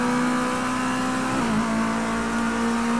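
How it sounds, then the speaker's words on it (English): A simulated race car engine in Project CARS 2 hums at steady revs, with a brief dip and blip midway as it downshifts into first gear at Snetterton, close and continuous with no talking. "the nose kicking in as I drop down into 1st gear"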